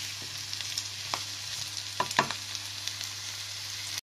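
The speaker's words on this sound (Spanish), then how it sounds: "vamos a dejar que todo esto se cocine durante unos 5 minutos" Pork steaks and vegetables sizzle and crackle steadily in a hot pan over high heat, with a few brief scraping stirs partway through.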